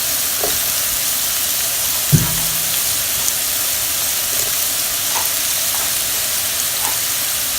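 Mushrooms sizzling in a hot pan while fried rice and chilli chicken are cooked, a steady hissing fry throughout with a single clack as they go in and a few faint clinks.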